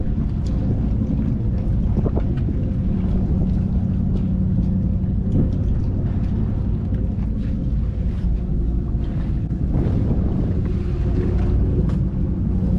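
Steady wind roars over an open microphone as a boat crosses Lake Okeechobee, a constant broadband rush with low water and engine rumble beneath, loud throughout with no voices.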